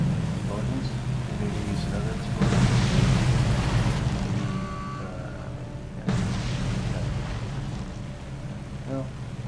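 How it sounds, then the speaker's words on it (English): Heavy explosions in the naval combat game War on the Sea: two broad booming bursts, one near the start and one midway, each fading into a continuous low engine-and-water rumble. "Once the last guy gets done shooting, explosions, maybe use another explosion."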